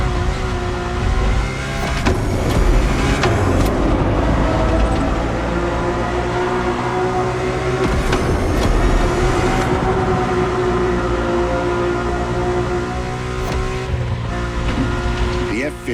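A Ferrari F50's normally aspirated Formula One-derived V12 runs in The Crew Motorfest, a sustained loud tonal engine drone with shifting pitch and tire noise, under narration.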